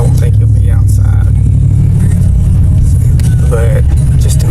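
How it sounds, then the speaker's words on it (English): A truck with a newly fitted exhaust drives up, giving a loud, steady low rumble that holds throughout, with faint voices underneath. "so here we are, about to pull up to Woody's with his new exhaust."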